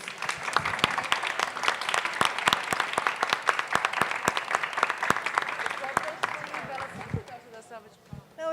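Audience at a public art talk giving a round of applause, crisp individual claps sounding across the hall in a steady patter that thins out toward the end as voices return.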